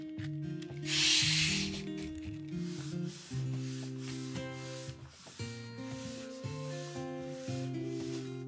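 A cutter scrapes dried, resin-like glue off 200-year-old Kiso cypress wood, producing a brief hissing scrape and fainter rubbing strokes beneath prominent background music.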